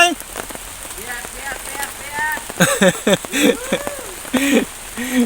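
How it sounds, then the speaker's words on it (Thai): Heavy rain patters on a camp beside a canal, a constant close drumming of drops across the whole span, with someone talking over it throughout. "ตอนนี้ฝนเริ่มมาแล้วนะครับ"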